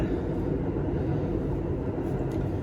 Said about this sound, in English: Every time I hear the subway pass by